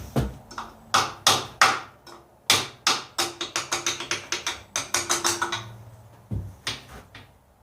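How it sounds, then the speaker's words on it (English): Repeated hammer blows against the oil pump of a Jeep 4.0 engine, a fast run of sharp metallic knocks in irregular bursts with short pauses, close and loud. "Take a hammer to the oil pump."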